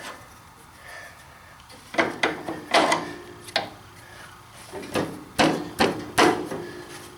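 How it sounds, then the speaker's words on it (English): Hammer blows on a pickle fork to free a front suspension joint during a suspension teardown, a series of sharp metallic strikes at irregular intervals, close and loud. "I guess I can just use a pickle fork and see."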